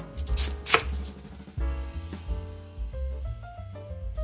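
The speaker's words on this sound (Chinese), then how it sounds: "这个方向切，可以把梗切断。" A knife chops cabbage on a board for a homestyle stir-fry, striking in a quick run of sharp, close cuts that repeat steadily over soft background music.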